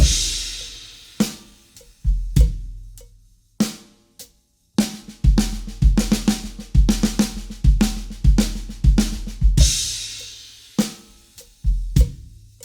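A linear drum fill on a drum kit, played slowly: separate sharp hits spread evenly over about twelve seconds, each ringing out before the next, with no other sound.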